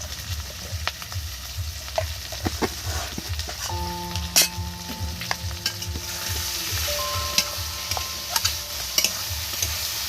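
Spice masala with green chillies frying and sizzling in a pan for a vegetarian Moglai paratha filling, with a steady close crackle and regular scraping strokes of a spoon stirring through, plus a few sharp ticks and clinks.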